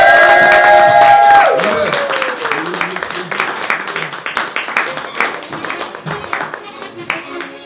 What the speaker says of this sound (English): Can we give a big, warm round of applause for EDITH